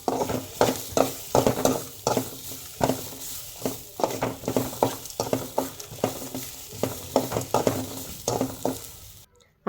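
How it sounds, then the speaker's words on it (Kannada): Grated coconut and spices fry in a little oil as they brown, with a steady crackling sizzle and repeated scraping stirs from a spoon against the pan, heard alone. "ಸ್ವಲ್ಪ ಎಣ್ಣೆ ಹಾಕ್ಕೊಂಡು ಅದು ಬ್ರೌನ್ ಕಲರ್ ಬರೋ ತನಕ ಅದನ್ನು ನೀಟಾಗಿ ಫ್ರೈ ಮಾಡಬೇಕು"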